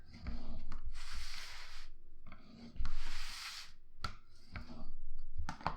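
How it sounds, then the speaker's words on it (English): A bone folder is rubbed firmly over paper on a mini album in a few long, close, hissing strokes separated by short pauses and soft taps, with no speech. "I like to press that with my bone folder"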